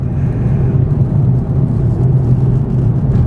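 A 2004 Mercedes-Benz CLK500 AMG Sport Coupe cruising smoothly down a road gives a loud, steady low engine and road rumble from inside the cabin, with no talk.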